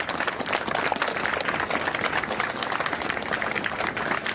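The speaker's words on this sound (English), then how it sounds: "You can hear folks clapping now." A crowd claps outdoors for a fallen Capitol Police officer, producing a continuous, fairly close patter of many hands that holds steady throughout.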